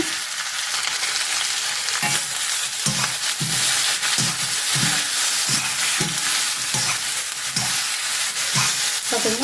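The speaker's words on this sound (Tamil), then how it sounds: "தேங்காய்லாம் நல்லா சிவக்க வதக்காச்சு போதும் இந்த மாதிரி வதக்கினீங்கன்னா போதும்" Coconut fries in a pan until browned for a potato and pea curry, with a dense, close sizzle broken by regular rhythmic stirring scrapes about every half second.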